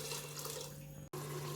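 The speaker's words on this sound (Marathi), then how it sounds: "थोडंसं भाजी उकडलेलं पाणी घेऊया." Vegetable boiling water is poured into pav bhaji, a steady splashing trickle over a faint hum, briefly interrupted near the end before resuming.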